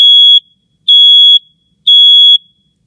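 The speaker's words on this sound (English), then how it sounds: "then it'll beep 3 alarm signals" Smoke detector (GE/Interlogix TX-6010-01-1) sounding three loud, piercing, evenly spaced alarm beeps during a test, each about half a second long with silence between.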